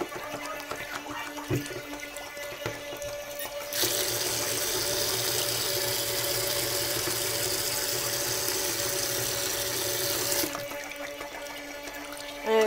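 A portable battery air hockey disc floating and running on water, giving a steady whirring, splashing rush that starts abruptly partway through, holds loud and even for several seconds, then cuts off.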